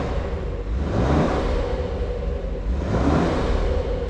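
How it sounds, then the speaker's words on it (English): A petrol engine in a BMW X5 50e M Sport gets a brief rev, a steady loud rumbling roar that swells twice over a few seconds, close by with no talking. "Being a petrol, it does make a nice noise. We'll just give that a wee rev."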